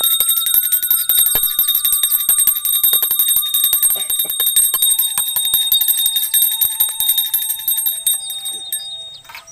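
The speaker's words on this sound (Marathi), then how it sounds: "धूप दे धूप घा घंटा वाजवा" A small hand bell is rung continuously during a home Gauri puja in Kankavli, Sindhudurg, its bright metallic ringing close and loud with rapid repeated strikes that thin out toward the end.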